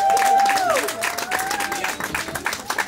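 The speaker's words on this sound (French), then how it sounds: "Yeah, applaudissez s'il vous plaît." Guests at a 60th birthday party break into applause and some cheering, loudest at the start and then thinning into scattered claps under a voice.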